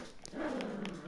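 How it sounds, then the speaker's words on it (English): Dogs playing indoors in the background produce a faint, brief mix of low growls and small whimpers, distant and soft. "Sorry if you can hear that, dogs. The dogs are playing."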